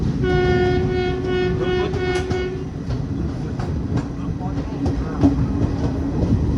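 A passenger train pulls into Durg junction, sounding a sustained horn at first, then rumbling and clattering steadily along the track as it arrives.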